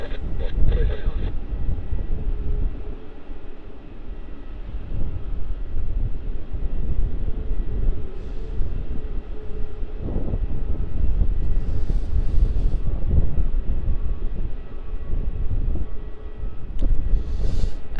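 A jet airliner taking off from runway 27 at Melbourne Airport, a loud sustained engine roar heard outdoors across the whole stretch with wind buffeting the microphone and a faint radio voice underneath.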